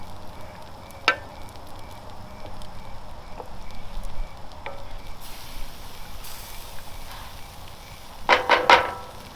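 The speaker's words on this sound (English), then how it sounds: "Nothing like gravy out of a cast iron pan over a fire." Gravy cooks in a cast iron pan over an open fire, giving a soft, steady sizzle with a few scattered clicks and scrapes, then a louder burst of stirring near the end. No one speaks.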